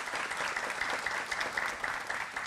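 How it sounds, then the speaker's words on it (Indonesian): A studio audience at a televised talk-show opening applauds, a dense, even burst of many clapping hands that holds steady at moderate volume, with no voices over it. "Tepuk tangan untuk kita semua pada malam hari ini."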